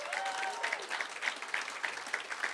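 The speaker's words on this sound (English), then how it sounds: "a huge round of applause to our downtown small business" A town hall crowd applauds downtown small business owners with a steady wash of clapping, with a few sharper claps standing out and faint voices in the background.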